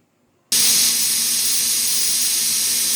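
A pressure cooker cooking prawn biryani suddenly vents steam: silence gives way to a loud, sustained, close hiss that holds steady to the end.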